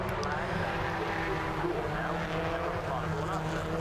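BMW Compact Cup race cars running wheel-to-wheel at Donington Park at dusk, engines roaring close by in a steady, dense drone with a faint tyre squeal, under a commentator's voice.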